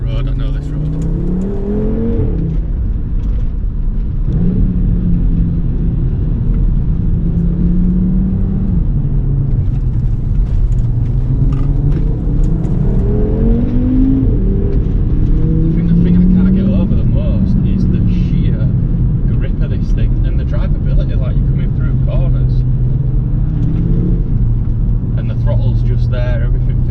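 A Stage 1 tuned Audi RS3 8P, 420 bhp, driven along a twisty road, its engine droning steadily and rising and falling in pitch through the bends while someone talks over it throughout.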